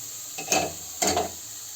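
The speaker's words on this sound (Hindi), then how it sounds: "गाजर को अब मैं क्या करूँगी, इसे 5 मिनट तक भूनूंगी अच्छे से" Carrots roasting in a pan over a low flame for a carrot kheer, two short scraping stirs of a spoon against the pan over a faint, quiet sizzle.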